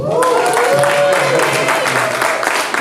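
Audience applauding at a Black Philanthropy Month celebration to honor a woman's Television Emmy Award, a steady crowd of clapping hands over a faint voice, continuous and fairly close throughout.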